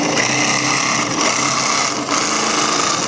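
A cordless drill winds a tool up and down under the A-arm of a side-by-side vehicle, making a loud, continuous motor whir that holds steady, dipping briefly twice as the trigger eases.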